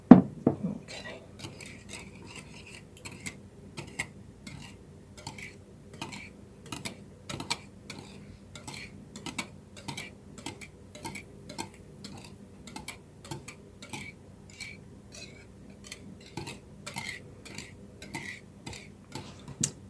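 A whisk clicks rhythmically against a bowl while an eggnog and rum mixture for raisin bread pudding is beaten, sharp repeated taps at a steady pace, close and fairly quiet.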